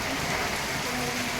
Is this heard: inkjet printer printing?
no